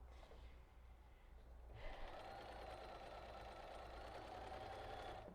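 A sewing machine starts up and stitches steadily at a fast, even whirring rhythm, running continuously and fairly close at a low overall level after a quiet moment.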